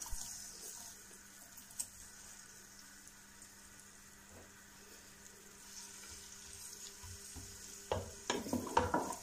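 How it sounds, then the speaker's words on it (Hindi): Garlic dropped into half a cup of cooking oil in a pot, a faint low sizzle that swells into louder crackling and clattering near the end, heard alone without any talking. "सबसे पहले इसमें डालेंगे लहसुन।"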